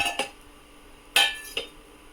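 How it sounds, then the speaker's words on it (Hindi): Cashews drop into a pan with a few sharp, light clinks, a couple near the start and two more a second later, close and fairly quiet with no talking. "अब मैं इसमें डालूँगी काजू"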